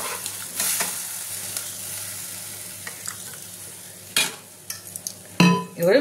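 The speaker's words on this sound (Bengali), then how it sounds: "এবার আমি এর মধ্যে জল দিয়ে দেবো।" Crab curry with spices frying in a pan gives a soft steady sizzle, broken by scattered clinks of a utensil against the pot and a sharper splash and hiss as water goes in near the end.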